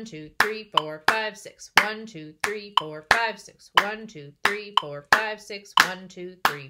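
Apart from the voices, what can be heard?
hands clapping on beats 1, 3 and 5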